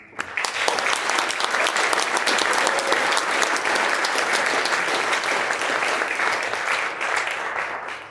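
An audience at an album launch applauds the performer with dense, sustained clapping that holds steady for several seconds before tapering off at the end.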